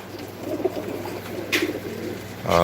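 Breeding pigeons in a home loft keep up a low, rolling cooing, several birds close together, with a brief rustle near the end.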